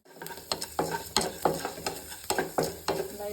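Chana dal frying in a little oil on a hot pan, stirred in a regular rhythm: repeated scraping strokes over a constant sizzle, close and fairly loud, with no talking.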